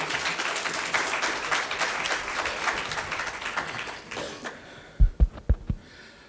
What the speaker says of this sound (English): let's welcome our speaker, Alankar, with a huge round of applause.